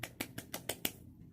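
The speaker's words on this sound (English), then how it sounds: "Golf clap, golf clap." Slow, soft golf clap of six evenly spaced hand claps, close and sparse, trailing off into quiet with no talking.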